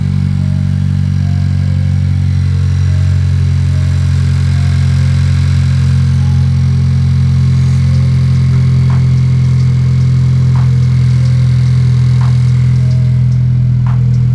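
A 10th gen Honda Civic Si fitted with a PRL Cobra cold air intake idles loud and close, a steady low drone with faint clicking ticks over it and no one speaking.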